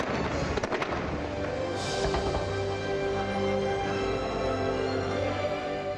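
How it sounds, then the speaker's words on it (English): Fireworks show over a lagoon at Walt Disney World crackles and pops at a distance, a dense run of bursts in the first seconds trailing into a sustained rumbling wash of sound. "there's a fireworks spectacular over the lagoon"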